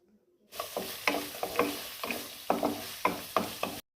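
Chopped carrot and green chillies go into a hot frying pan for semiya upma and are stirred. Close, crisp scraping strokes and a soft sizzle repeat roughly every half second, with no talking.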